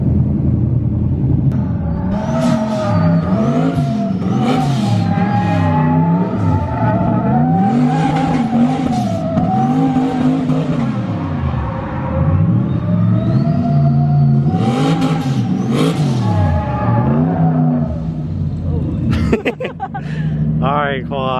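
A turbo LS car revs hard and skids through a skid race, its engine note rising and falling in long sweeps with tire squeal. The sound is loud and sustained, with voices talking over it.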